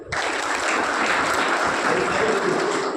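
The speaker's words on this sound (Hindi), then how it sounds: "हिमांशु राजपूत के लिए ताली बजाइए।" Students at a school motivational programme in Mathura break into a dense, even burst of applause, loud and continuous from start to finish with no gap.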